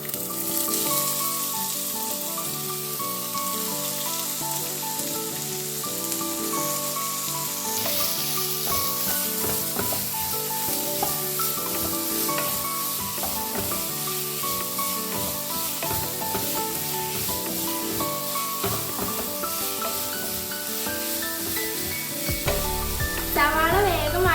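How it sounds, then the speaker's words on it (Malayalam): Steady, loud sizzling as sliced onion is tossed into a pan with frying ginger and garlic, with stirring scrapes running through the whole stretch and a brief clatter near the end. "അപ്പോൾ നമ്മൾ ഇഞ്ചി വെളുത്തുള്ളി നന്നായി മൂത്ത് വന്നിട്ടുണ്ട് ഇനി നമുക്ക് അതിലേക്ക് സവാള ഇട്ട് കൊടുക്കാം"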